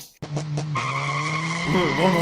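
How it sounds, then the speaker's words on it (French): A car skids with a sustained, loud tyre squeal that holds a steady pitch for a couple of seconds, preceded by a few quick knocks and wavering slightly near the end. "C'est une voiture, c'est une moto."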